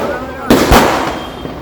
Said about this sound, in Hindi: कार्यकर्ताओं ने आतिशबाजी और ढोल ताशों के साथ उनका जोरदार स्वागत किया